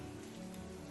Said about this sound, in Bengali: টিনের চালে বৃষ্টির ঝুমঝুম শব্দ,